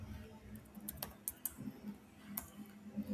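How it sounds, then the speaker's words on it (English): Keys tapped on a computer keyboard while entering a short line of code, a quiet series of irregular clicks with brief pauses, close up, over a low steady hum. "if I type and just print, I want to type hello world"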